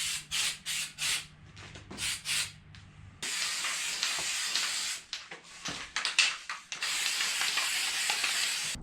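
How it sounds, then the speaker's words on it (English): Rubberized undercoat hisses from an aerosol spray can in short bursts at first, then in longer continuous sprays with brief pauses, close up and with no talking. "we're just gonna hit them with some rubberized spray"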